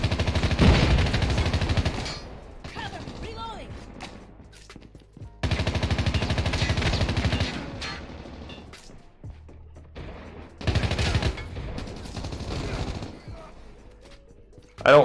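Bursts of gunfire from a low-recoil weapon in COD Mobile, loud volleys in several separated runs with quieter gaps between them, and speech faintly beneath.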